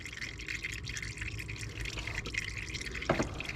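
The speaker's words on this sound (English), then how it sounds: "oil draining" Oil drains from the AC system of a Mercury Mountaineer during a compressor repair, heard as a soft, steady trickle with faint drips over low background noise, close and quiet, with one small clink near the end.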